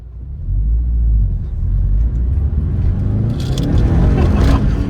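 A 2004 Subaru WRX STI with its turbo engine accelerating, a loud steady low rumble that builds, with a brief rise in whine and roar near the end.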